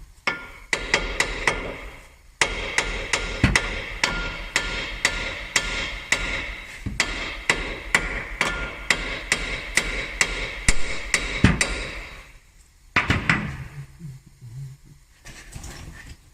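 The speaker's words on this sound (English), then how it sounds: "need to pop the ball joint in, get it lined up" A Ford Focus ball joint is hammered into place with rapid, ringing metal blows struck in quick bursts, close and loud, pausing briefly before a final few knocks and scrapes.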